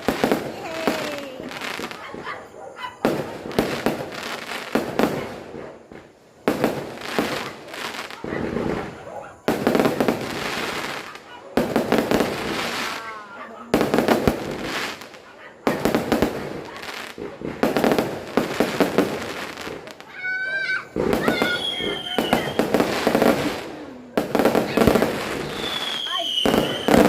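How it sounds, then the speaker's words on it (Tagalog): Repeated loud firework bursts boom and crackle in clusters with short gaps between them at a Christmas celebration at a new house, and people cheer and talk over the blasts. "Fireworks!"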